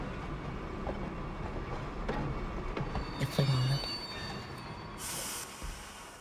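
Tram rolling along its rails in the video game Red Dead Redemption 2, a steady low rumble with faint wheel squeal and a brief hiss near the end, heard alone at moderate distance.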